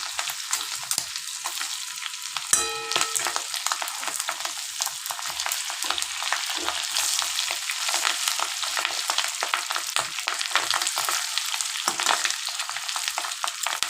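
Fish roe fritters frying in oil while being broken into smaller pieces in the pan: a continuous close crackling sizzle with scattered pops and one bright clink of the utensil, no talking.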